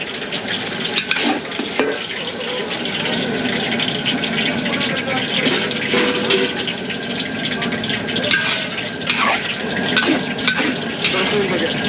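Water pours into a pot of broccoli and cauliflower during catering cooking in San Fernando, Pampanga, a steady splashing and sizzling with stirring clatter, close and fairly loud, with voices talking over it.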